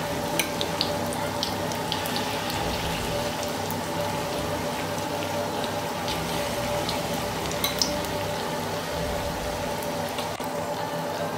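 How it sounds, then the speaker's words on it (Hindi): Bonda fritters fry in a pan of hot oil, giving a steady, close sizzle with dense crackling and tiny pops throughout and no talking. "बंडा अच्छे से फूल गया और बहुत ही अच्छी तरह से फ्राई हो गया"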